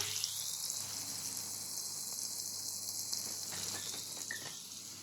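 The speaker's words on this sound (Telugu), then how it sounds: "ఈ బౌల్లో కొంచెం వాటర్ పోసేసి" Water pours into a hot pan of brinjal curry with a steady hiss and gush, a continuous rushing sound lasting several seconds.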